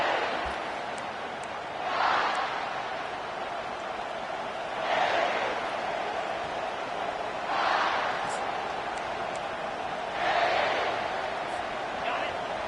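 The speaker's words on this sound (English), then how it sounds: "They challenge this crowd to bring the energy, and I'd say they're doing that." Stadium crowd noise from a College Football 25 game with the Gamecocks, a steady roar that swells into four broad cheering surges at regular intervals, with no one talking over it.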